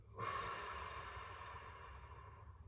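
A long, steady exhale blown out through a drinking straw during a calming breathing exercise: one continuous close airy whoosh that starts abruptly and holds for over two seconds.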